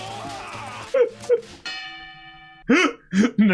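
A boxing ring bell in a Hajime no Ippo anime episode rings once with a sustained metallic tone, briefly alone between bursts of excited voices.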